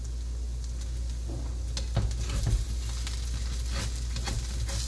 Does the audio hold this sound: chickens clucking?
no